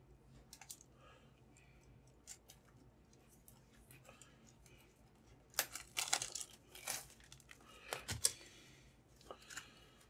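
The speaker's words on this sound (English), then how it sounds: "just grabbing a hobby knife to cut these open" A hobby knife slices open plastic-wrapped board game packaging, heard as soft, close crinkling and scraping cuts that grow busier midway, with faint ticks and rustles throughout.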